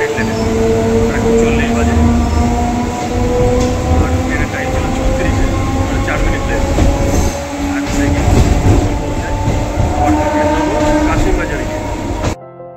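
A local train running from Krishnanagar toward Deoghar, with a steady loud rumble of carriages and wheels on rail and faint squeals, continuous for the whole stretch before cutting off at the end.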